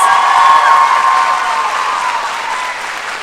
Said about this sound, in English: we'd like to have a round of applause